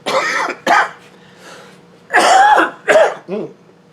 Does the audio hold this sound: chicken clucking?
no